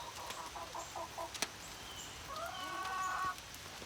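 Chickens cluck outdoors on a rainy day, a quick run of rhythmic clucks followed by a longer drawn-out squawk, close but moderate under steady rain patter and a sharp knock.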